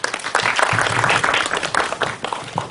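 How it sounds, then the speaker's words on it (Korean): Conference audience at a cloud computing event giving a short round of applause, a brief burst of clapping that swells and fades within a few seconds. "박수를 부탁드립니다."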